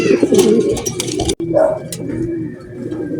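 Racing pigeons coo up close after returning from a 97 km training race from Sariaya, Quezon, with wing flutter and loft rustling.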